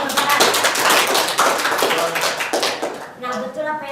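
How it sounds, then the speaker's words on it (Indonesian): A classroom audience in a microteaching session claps loudly together, a dense burst of applause that thins toward the end, with a voice beginning to speak over the last moments. "Beri tepuk tangan yang keras."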